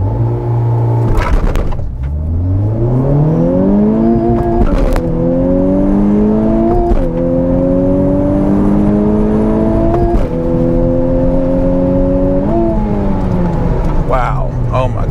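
A 2021 Honda Civic Type R accelerating hard in first gear with stability assist off, engine note climbing steadily through several rising pulls with brief breaks, loud and close inside the cabin.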